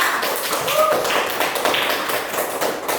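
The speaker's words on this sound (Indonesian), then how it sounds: "Tepuk tangan buat kelompok 2." Classroom applause for a student group, a dense patter of many hands clapping close by, with a voice briefly heard under it.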